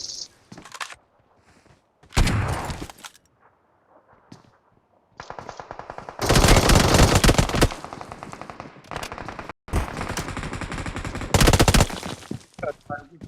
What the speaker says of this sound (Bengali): আরে পাম্প শটগান দিয়েছে মাত্র এই যে।